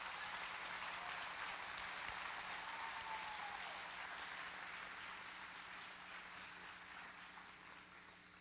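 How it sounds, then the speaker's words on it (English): Sustained applause from a pageant audience honoring the contestants at a street festival, steady and fairly distant, fading slightly toward the end with no talking. "Let's go ahead and give all the contestants one more round of applause."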